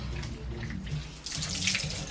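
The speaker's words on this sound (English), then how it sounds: "it's just as easy as I just run it under water" Tap water runs steadily over an exfoliating washcloth in a sink, a close, continuous splashing rush. It briefly brightens and grows louder as the cloth is moved under the stream.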